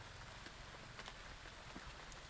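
Rain falls steadily at home on a cloudy day, a faint, even patter with scattered drop ticks and no voices.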